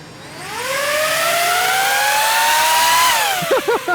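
DJI FPV drone motors spin up, a loud rising electric whine that climbs and holds steady, then drops off and pulses in short bursts as the motors wind down.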